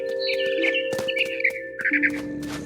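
Bird chirps from the video game What Remains of Edith Finch: a few bright, short tweets and squawks in quick bursts over a steady game ambience, with scattered clicks and no speech.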